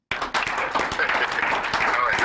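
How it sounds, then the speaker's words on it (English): An audience in a broadcast talk program breaks into sudden clapping, a busy patter of many hands sustained for a couple of seconds, with voices underneath. "Make una clap for her."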